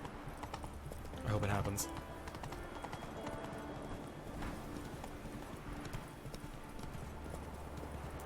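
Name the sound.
horse Roach galloping up mountain in video game Witcher 3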